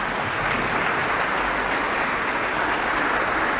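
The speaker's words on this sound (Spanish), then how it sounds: "Un aplauso pues para el hermano." Steady, even applause from a church congregation welcoming a brother, continuous and moderately loud with no talking over it.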